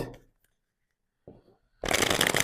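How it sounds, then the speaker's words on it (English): Tarot cards being shuffled by hand, a short soft riffle followed by a louder, close, continuous burst of papery flutter at the end. "I'm just going to shuffle a bit here."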